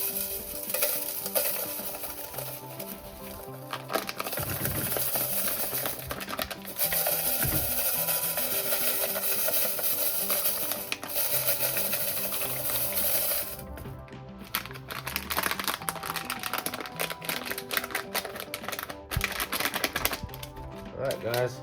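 Dry gold-prospecting material is shaken through a classifier screen, making a gritty, rattling rasp that runs for a long stretch, close by, with some talking now and then.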